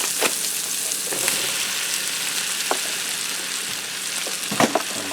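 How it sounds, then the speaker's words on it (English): Sixteen ounces of sliced mushrooms sizzle with onions in a hot skillet, a steady close frying hiss with a few sharp crackles and stirring scrapes. "I'm going to add in 16 ounces of sliced mushrooms"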